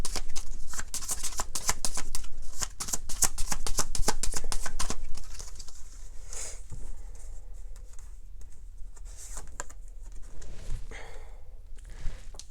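Tarot cards shuffled by hand in rapid, crisp riffling bursts that run close and steady, then thin into sparser slides and flicks toward the end, with no talking.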